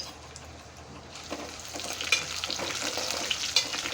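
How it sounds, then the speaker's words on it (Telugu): Dry red chillies frying in hot oil while being stirred for a coconut chutney, a rising crackling sizzle with scraping stirs and a few sharp pops, close and steady, no talking. "అంతా ఎండుమిర్చి అంతా వేపుకోవాలి."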